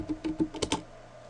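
Fingers tapping a computer keyboard, about six quick close keystrokes in under a second, followed by quiet room noise, with no talk.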